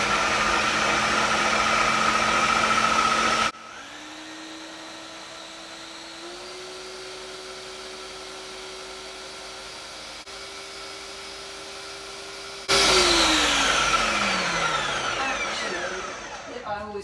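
Food processor pureeing vegan Thai green curry paste: a loud, steady motor whine that drops to a lower, quieter hum, then surges back to full power before spinning down at the end.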